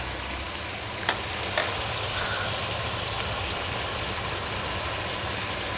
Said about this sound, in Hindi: इस प्याज के साथ हम इस गोश्त को भूनेंगे